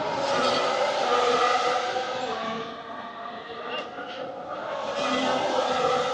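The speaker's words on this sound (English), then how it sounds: "Here come the cars." Race cars roar past on the Imola circuit during a Grand Prix, a loud, sustained engine howl that dips briefly before swelling again.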